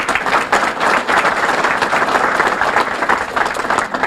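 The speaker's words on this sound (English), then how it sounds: "Let's give them all a round of applause." An audience at a town reorganizational meeting claps and applauds steadily throughout, a dense, sustained wash of hands with no pauses.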